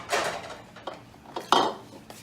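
A bowl being cleaned while making pho, with several sharp ceramic and metal clinks and clatters at irregular intervals, close by, the loudest knock near the end.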